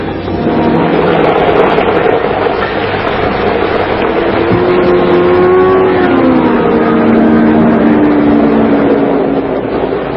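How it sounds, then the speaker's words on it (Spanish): A car speeds along a winding mountain road from a California town, its steady engine roar continuous and loud, with pitch rising and falling as it takes the curves; staged as a radio drama effect. "va un auto a toda velocidad"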